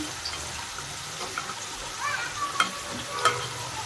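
Chicken is stirred in a cooking pot as the liquid nearly cooks off, giving a soft bubbling sizzle with scraping and a couple of sharp utensil clinks against the pot.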